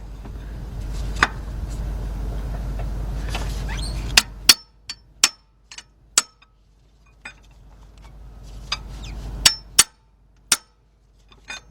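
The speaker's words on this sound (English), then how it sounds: "We're gonna take our hammer, just hit it a few times." A hammer strikes a vehicle's metal water pump fan several times, sharp clinking taps spaced unevenly, with a low engine-like hum at the start and quiet gaps between hits.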